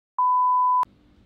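A single loud, steady censor bleep tone holds for under a second, cutting off abruptly into faint low room noise.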